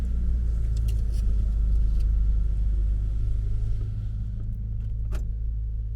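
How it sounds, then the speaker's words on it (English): Car traffic moving on a road in Kabul, a loud, close, low rumble of passing engines with faint clicks and rattles, no voices heard. "Traffic is moving again, so looks like they've done their job."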